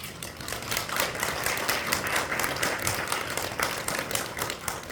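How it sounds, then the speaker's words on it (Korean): Sustained applause from a congregation at a Korean Christian prayer meeting, welcoming a pastor to the pulpit; steady dense clapping with no talk throughout. "우리 나오실 때 환영하는 의미로 박수로 환영하겠습니다."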